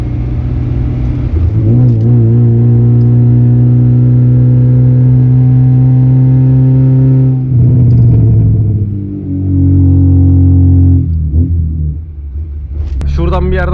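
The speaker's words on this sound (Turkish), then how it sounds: "Şöyle birazcık egzoz dinleteyim sizlere." A Tofaş Doğan SLX's exhaust rumbles loud and close, holding a steady idle-like drone before several revs rise and fall, with a voice talking over it near the end.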